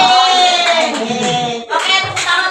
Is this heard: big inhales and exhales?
no